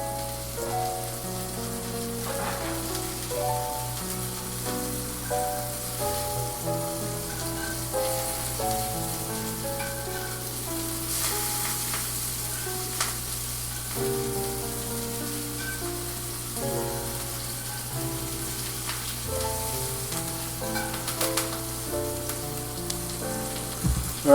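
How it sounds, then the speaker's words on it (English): Meatballs brown in a frying pan with a steady, soft sizzle running beneath louder background music. "I'm just trying to get them browned"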